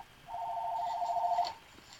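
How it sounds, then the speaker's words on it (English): A telephone rings once, a steady electronic tone lasting just over a second, fairly clear against quiet background. "There goes the phone again."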